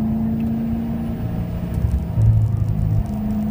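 A race car lapping the Spring Mountain circuit drones from inside the cockpit, a steady engine hum with a low rumbling swell as the driver eases off the throttle into an off-camber corner.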